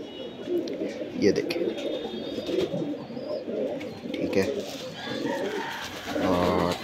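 Teddy cross pigeons coo in a continuous soft rumble close by, with someone talking over them in short phrases.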